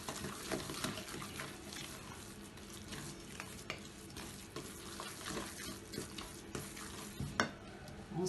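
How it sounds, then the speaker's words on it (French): Basbousa coconut cake batter with yeast and sugar being stirred in a bowl, a steady wet scraping and sloshing with irregular clicks and knocks of the utensil, close and continuous with no talking. "Bien mélanger le tout, la levure, le sucre et tout ce que j'ai mis dedans."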